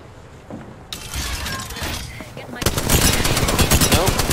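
Automatic gunfire in an Apex Legends fight, starting quieter then breaking into loud rapid bursts close by, with a shattering crack and mixed game noise, voices faintly underneath.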